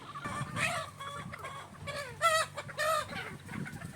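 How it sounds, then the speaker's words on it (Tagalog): A flock of chickens, including pullets, cockerels and young stags on a gamefowl farm, clucking and squawking in agitated bursts, several birds overlapping close by with busy farmyard background noise. "At nagkagulo na nga ang mga manok."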